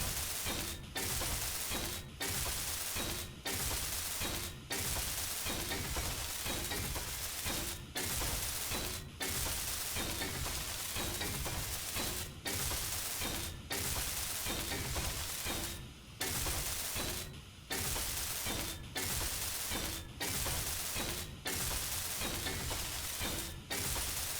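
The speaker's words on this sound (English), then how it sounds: "go ahead and weld this up" A welder in Space Engineers sputters and crackles continuously at close range. The buzzing hiss drops out in brief regular gaps, with no voices over it.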